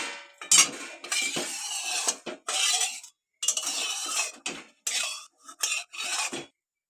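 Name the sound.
washing a kadai wok with water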